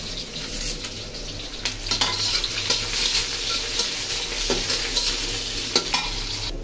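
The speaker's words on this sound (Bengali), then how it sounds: "পেঁয়াজটা আমি তেল ছেড়ে দিই। এবার তেলটা অনেক গরম হচ্ছে।" Onion fries in very hot oil in a home kitchen, a dense continuous sizzle close to the pan, with scattered utensil scrapes and taps as it is stirred.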